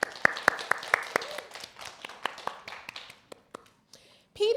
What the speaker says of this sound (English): Let's all get together and clap our hands so we show them we're their fans.